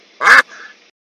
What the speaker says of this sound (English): NRA Bird Hunter quickly pulls out a duck call to blast Big Baller's ears.